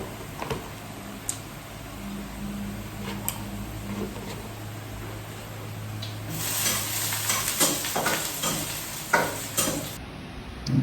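Garlic rice is being stir-fried in a pan, with a constant low sizzle and scraping, clinking stirring strokes. The frying grows louder and busier in the second half.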